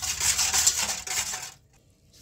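Gelatin and white sugar being stirred into water, a close, rough scraping swirl of a utensil against the container that runs steadily for about a second and a half, then stops, with no voices.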